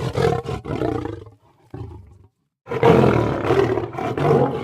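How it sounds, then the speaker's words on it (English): A lion roars in deep, rumbling bursts, a couple of strong calls, a short gap, then a long sustained roar, loud and close. "lion"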